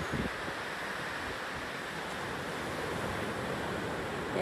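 Wind sweeps across Pawleys Island beach on a summer morning, a steady broadband rush with surf-like roar running unbroken through the whole stretch, close to the microphone and fairly loud.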